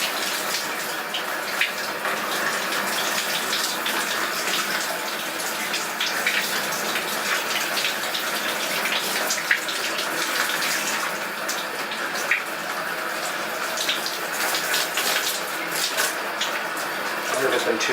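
Steady broadband rush of shower water running, constant and fairly close, continuing without a break for the whole stretch.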